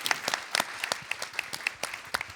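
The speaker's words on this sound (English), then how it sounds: "Let's give them a round of applause again" A small audience at a youth presentation on Arctic cities claps in a sparse, irregular round, distinct individual claps close by rather than a dense roar.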